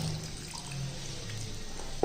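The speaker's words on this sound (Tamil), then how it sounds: "இப்போ இன்னும் கொஞ்சம் தண்ணி ஊற்றிக்கிடுவோம்." Water is poured into sweet potato paniyaram dough mixed with dissolved jaggery, making a soft, close, steady trickle that ends with a brief knock, with no talking.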